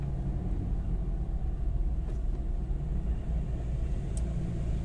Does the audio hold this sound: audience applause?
no